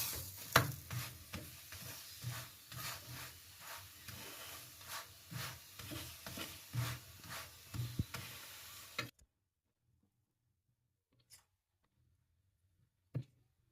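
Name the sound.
beetroot paratha frying in oil, pressed down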